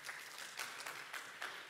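Audience applause given as a show-of-hands style vote during a lightning talks session, a faint, steady patter of many hands with a few louder swells, continuing for under two seconds.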